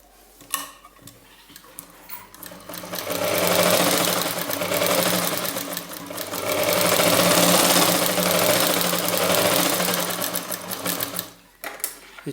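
A sewing machine runs fast and loud for most of the stretch while stitching a zipper onto a small fabric pouch, surging twice with a brief slowdown between and quieter handling clicks at either end.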